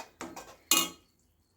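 A mixer jar is rinsed and tipped into a pot of Chettinad egg gravy, giving a couple of short clattering knocks and then a louder splashing pour that quickly fades to quiet.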